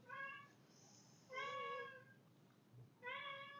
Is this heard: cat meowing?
yes